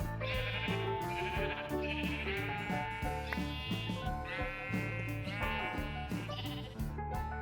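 Minecraft sheep bleating in repeated short nasal calls over a busy musical game soundtrack, several bleats in quick succession, fairly faint beneath the music.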